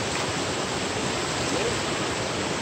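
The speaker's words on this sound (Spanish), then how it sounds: "Es lo que tiene el río cuando están así" A river rushing in a steady, loud broadband roar of flowing water, constant and close, with no voices rising above it.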